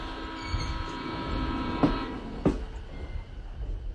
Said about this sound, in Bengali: ট্রেন আটপুর এসে দাঁড়ালো